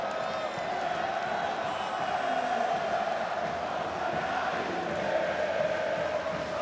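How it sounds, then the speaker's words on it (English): An esports arena crowd at a Counter-Strike Major match on the Inferno map keeps up a continuous roar of cheering and chanting, steady and fairly distant throughout. "We found the crowd"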